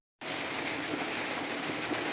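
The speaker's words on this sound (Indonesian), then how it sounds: "hari ini semalaman sampai pagi ini hujan terus guys, belum berhenti-henti" Steady rain falling overnight into morning over a chili garden, a dense, even broadband hiss that starts abruptly and continues unbroken, with no voices.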